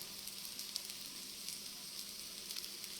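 Food frying in a pan over a medium flame, a steady, fairly quiet hiss and crackle with small pops scattered throughout, heard alone.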